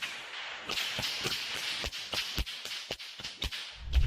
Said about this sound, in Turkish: Adam kırbaç kullanıyor